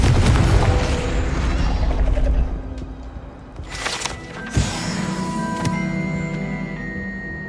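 A Confringo explosive spell blast in Hogwarts Legacy: a loud, dense rumbling burst that fades out, followed by a sharp crack and ringing, shimmering debris tones trailing off.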